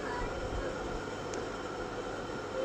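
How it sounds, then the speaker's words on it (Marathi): The Deccan Express passenger train runs along with a constant, even rumble and rush of wheels and carriage noise, steady and unbroken throughout, with no talking. "कल्याणवरनं आम्ही डेक्कन एक्सप्रेसची गाडी पकडली आणि गाडीमध्ये बसलो आम्ही"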